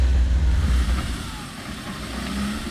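Land Rover Defender straining up an off-road climb, its engine droning low and loud with a surging rev, heaviest at the start, then easing slightly and rising again.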